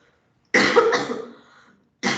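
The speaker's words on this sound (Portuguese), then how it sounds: "Ixi, tá de tossir" A single person coughs hard and close up in a short, raspy burst that tails off, followed after a pause by the start of another cough.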